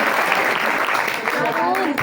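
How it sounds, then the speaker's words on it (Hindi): Audience applause fills a church hall, a dense steady patter of many hands clapping, with a voice speaking over it near the end. "जोरदार तालियां बजाइए"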